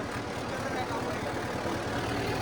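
A tractor engine runs steadily through a field ploughing job, a loud continuous low rumble with a regular pulsing beat, close by and unbroken from start to end.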